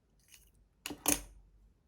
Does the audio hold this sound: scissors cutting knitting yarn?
yes